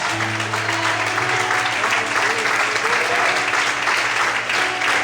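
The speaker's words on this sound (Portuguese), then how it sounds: "aplauda e exalte ao Senhor essa noite." A large church congregation claps continuously and loudly, dense applause filling the space without a break.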